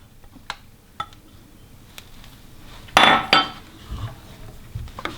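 A spoon clinks against a bowl while full-fat coconut milk is mixed in for a coconut and chocolate pie, with scattered light taps and a louder, denser burst of clattering midway, close and without talk.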